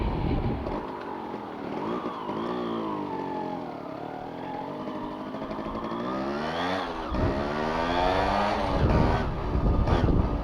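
A Yamaha RX 135 two-stroke motorcycle rides on the road, its engine and exhaust revving up and down through the gears, loud and close, with a rider's voice briefly audible over it.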